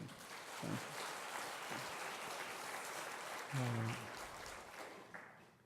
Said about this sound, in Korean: 우리 하나님 앞에 뜨겁게 박수로 영광을